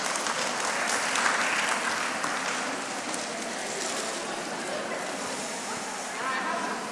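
A mentorship-session audience gives a sustained round of applause, a thick, loud wash of clapping that holds steady for several seconds before easing slightly.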